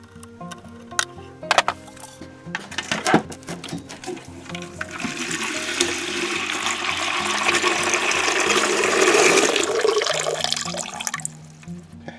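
Water gushing and spattering from a disconnected water softener discharge hose during a resin rebed, a steady rushing pour that swells louder toward the end, with a few clunks of handling early on.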